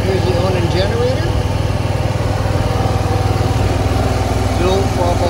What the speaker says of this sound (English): Here's the Onan generator.